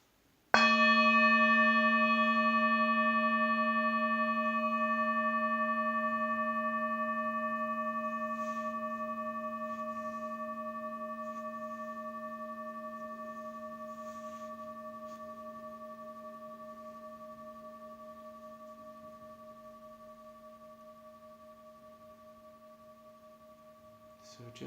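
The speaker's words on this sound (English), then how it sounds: "So I'll sound the bell." A meditation bell is struck once and rings with a clear, sustained tone that slowly fades toward silence over about twenty seconds.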